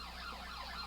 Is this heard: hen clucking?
no